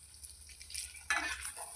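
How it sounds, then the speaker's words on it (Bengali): Puris frying in a pan of oil, soft bubbling sizzle with faint stirring clinks that swells into a brighter, louder hiss near the end, no voices. "আমি এবার একটু কড়া ভাজা করে দিই"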